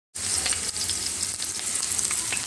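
Chicken and onion frying in a pan, a loud, steady close sizzle with crackling oil that starts abruptly and continues without pause.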